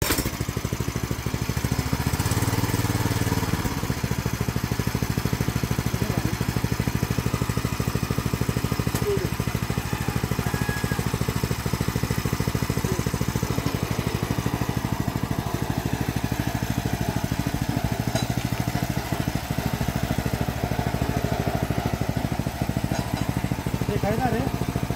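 A newly bought tractor engine runs steadily at a rice farm in Konkan during paddy sowing, a continuous low mechanical drone with background voices heard faintly over it.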